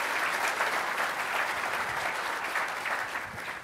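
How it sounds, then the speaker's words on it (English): Audience applause for the panelists at MuleSoft CONNECT 2015, a dense, even wash of clapping that holds steady and then starts to fade. "Give them one round of applause for being up here"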